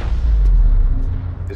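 Loud, deep rumbling boom from an explosion in the video game Mirror's Edge Catalyst, a sustained low roar that slowly fades over under two seconds with some faint high debris crackle near the end.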